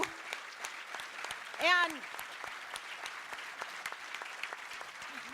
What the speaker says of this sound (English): can we just give a big round of applause for the work that they do?